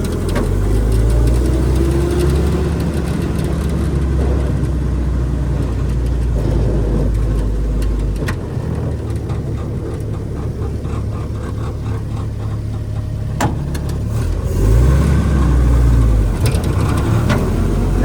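A rough 1952 Willys M38 Jeep engine idles loudly and steadily close by, with loose metallic rattles and clanks, including a windshield clip, buzzing over the low rumble.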